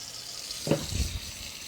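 Water briefly splashes and runs over a leather work boot during cleaning, a short soft rinse against a steady background hiss.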